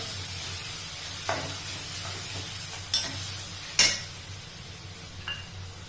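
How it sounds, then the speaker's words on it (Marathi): Chopped onion sautés in a pan with a soft steady sizzle, broken by a few sharp clinks and scrapes of a spoon stirring against the pan. "एक कांदा चांगला परतो द्यायचा"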